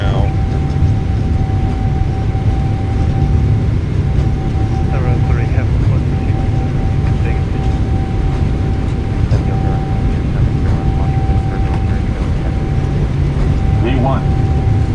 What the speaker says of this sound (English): Takeoff power is set. We're rolling.